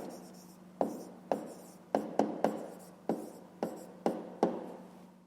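Pen writing a maths answer on paper, a series of about ten short scratchy strokes in an uneven rhythm, close and fairly quiet.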